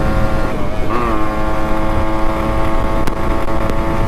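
A Yamaha RX135 two-stroke motorcycle engine drones loudly and continuously while riding through empty streets at night, its pitch rising briefly as it revs, with wind rush over the steady buzz.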